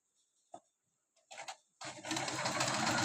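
A Singer sewing machine gives a few soft clicks, then starts stitching with a steady, close whirring run that continues to the end.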